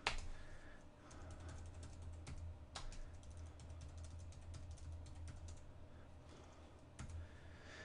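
Quiet, steady clicking of keys as a command is typed on a computer keyboard while configuring a Cisco ASA firewall, close and faint, with a few sharper key strikes.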